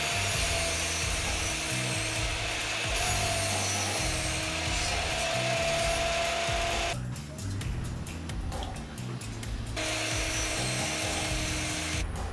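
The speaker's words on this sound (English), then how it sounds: "I'm going to cut 2 of the strips down to 22 inches for the back" A power saw cuts wooden strips for an arcade cabinet build, a steady loud whine and rumble that drops out briefly near the end before resuming.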